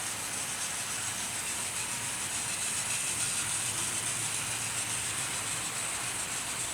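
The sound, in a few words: 0-6-0 steam locomotives running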